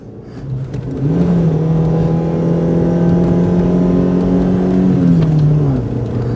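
A Proton car revs hard and races up a hill, its engine holding a loud, steady drone that climbs in pitch and stays close for several seconds before easing off near the end.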